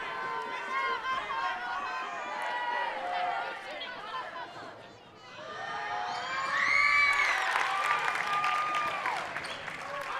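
Crowd noise at a boys high school basketball game, Salamanca vs Randolph, with many voices cheering, shouting and chattering continuously, swelling louder in the second half after a brief dip, with scattered higher shouts and possible clapping.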